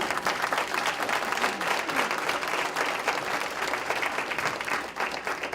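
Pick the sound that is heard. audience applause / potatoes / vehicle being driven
audience applause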